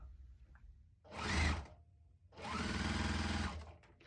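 A sewing machine stitches quilt squares together in two short bursts, the second longer, each with a whirring run-up and stop, close and clear in a quiet room.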